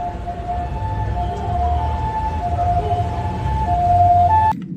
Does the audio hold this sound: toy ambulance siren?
yes